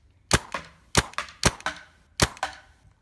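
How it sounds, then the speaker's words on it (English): A paintball gun firing four sharp, loud, close shots at uneven intervals, each snap followed by a short rattling echo, with no talking. "I'm just shooting my paintball gun."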